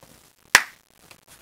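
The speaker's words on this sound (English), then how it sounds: "Give me a clap." A single sharp hand clap, close and loud, marks the start of a studio interview recording, with near silence before and after.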